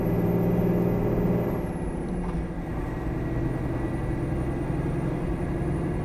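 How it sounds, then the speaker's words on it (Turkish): A heavy truck in Euro Truck Simulator 2, hauling diesel in third gear, labours up a grade with a continuous low engine drone and rumble, loud and steady, with only a slight dip partway through. "Şu an araç 3. viteste. Bayağı bir çıkmakta zorlanıyor."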